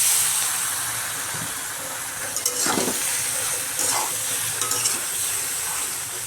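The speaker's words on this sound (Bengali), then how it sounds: "ডিমটাকে ভালো করে ভেজে নেব। এখন ঢেলে দেবো পাস্তাগুলো।" Pasta tipped into a hot pan with a fried egg, a steady sizzle running throughout with a few louder stirring scrapes and splashes midway, close and moderately loud, no voices.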